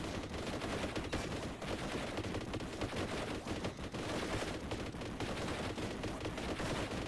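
Rapid, continuous boltgun fire in the Warhammer 40K Boltgun video game, a dense, loud barrage of shots with no pauses, alone without talk.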